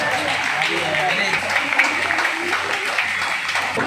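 An audience at a children's award ceremony claps and applauds continuously, a dense wash of hand claps mixed with crowd voices, fairly loud throughout.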